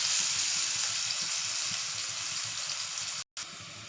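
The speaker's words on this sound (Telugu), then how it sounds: "ఆనియన్ హాఫ్ వరకు ఫ్రై అయిపోయినాయి" Onions deep frying in hot oil for egg biryani, a steady close sizzle with faint stirring and a brief dropout near the end.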